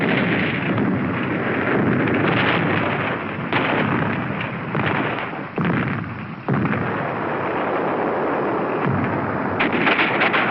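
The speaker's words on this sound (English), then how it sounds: "A mortar barrage searches out hidden machine gun nests." Mortar barrage during the Battle of Iwo Jima, heavy continuous explosive rumble with overlapping blasts and brief dips, loud and dense, with the dull, band-limited tone of old wartime film sound.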